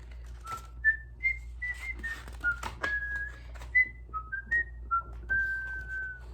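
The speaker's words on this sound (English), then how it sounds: "she whistled on her way back to her bed" Whistled tune from a woman heading back to bed at night, a series of clear sustained notes rising and falling in a simple melody, close and solo against a low steady hum.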